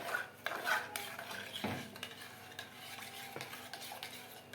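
A spoon stirs milk powder into milk in a pot for rice pudding, giving continuous close scraping and swirling with light clinks against the metal, steady throughout.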